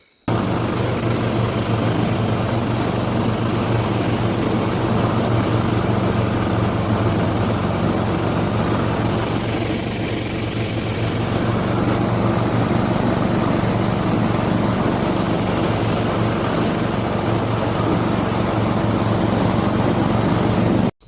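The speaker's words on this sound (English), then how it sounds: "I do have a deck for this tractor, and I will show a clip of it mowing." An Allis Chalmers tractor with a mower deck mows a yard, its engine giving a steady, loud drone that holds evenly throughout with no talk.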